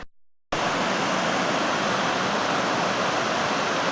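Creek water rushing out of a culvert beneath a road, a loud steady roar that starts abruptly after a brief silence and holds constant throughout.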